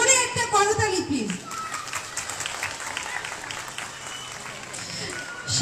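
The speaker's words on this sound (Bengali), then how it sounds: "আমাদের সব ভলান্টিয়ার ভাই বোনদের জন্য অনেক জোরে একটা করতালি প্লিজ" An outdoor crowd at a winter-clothing distribution for street children claps for the volunteers, sustained applause after a voice over a loudspeaker, holding steady for several seconds amid scattered crowd noise.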